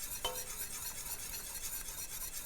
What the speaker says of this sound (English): Now, I whisk. You pour the mixture inside.